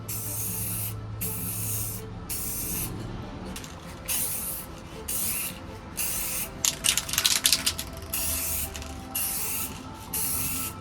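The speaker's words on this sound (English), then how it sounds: "for this project I get very good results with just spray can" Aerosol spray can hissing in repeated bursts while spray-painting a guitar body during a DIY build, each spray lasting about a second with short pauses between, close and steady with no talking.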